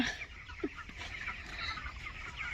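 Chickens cluck softly and steadily alongside young chicks being raised, with a few brief, sharper calls scattered through a low, continuous background.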